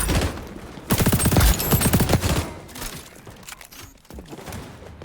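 Rapid bursts of Vector SMG fire in the XDefiant shooter, a loud dense rattle of shots for about two seconds, then fading into quieter scattered gunfire and game noise.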